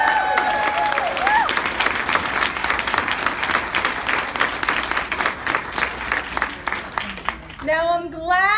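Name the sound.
audience applauding at political forum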